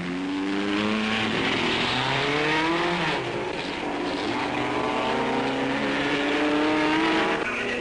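A 1958 Maserati V12 3-litre sports car driven by Stirling Moss roars past on a racing circuit, its engine loud and sustained with rising and falling revs and no speech.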